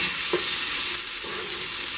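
Fish frying in oil in a pan as it is flipped to the other side, a steady close sizzle with a brief clunk of the turn.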